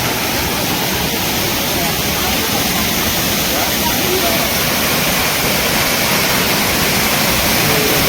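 Heavy rainwater rushes and pours at Karla fort during a downpour, a loud, steady broadband roar filling the whole stretch without letup.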